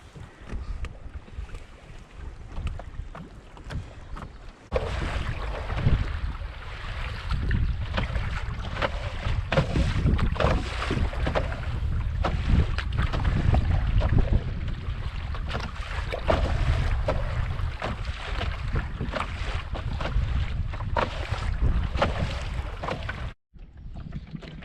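Kayak paddling on open water, with steady splashing paddle strokes and rushing water, close and continuous, with wind buffeting the microphone throughout.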